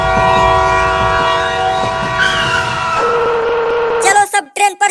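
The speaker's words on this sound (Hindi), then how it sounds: "आ गई ट्रेन, आ गई ट्रेन" A train pulls into a station: strong steady horn tones sound loud and close over rumbling wheels, then a few short horn blasts as it arrives, with voices of people waiting nearby.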